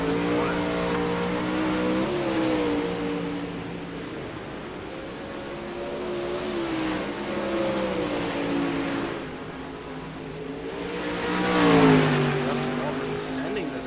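Dirt track race cars circle the track with sustained engine drone that rises and falls in pitch as they pass and rev, peaking loud near the end, while a commentator talks over the noise.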